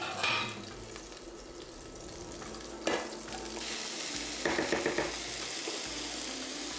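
Onions hit a hot pan and fry with a continuous moderate sizzle, marked by a couple of clanks from stirring, no voices.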